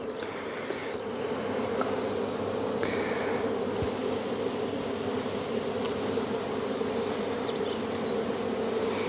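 Honeybees buzzing in an open hive of roughly 40,000 bees, a dense, steady close drone with individual bees zipping past now and then over an outdoor background.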